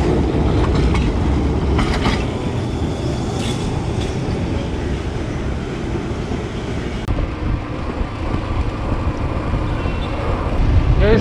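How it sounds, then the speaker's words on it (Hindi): A Kolkata tram rolls along street rails with a steady loud rumble and some faint squeals, heard close up amid city traffic noise. "ये है कोलकाता का ट्राम।"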